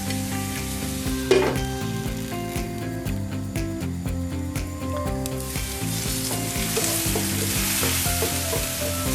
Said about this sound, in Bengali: আমি চিংড়ি মাছ পেঁয়াজটাই আর একটু ভাজা হোক, সে পর্যন্ত আমি একটু ভেজে ঢেকে দিই।